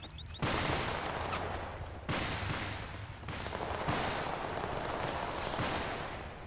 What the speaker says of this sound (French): Et ça tire fort.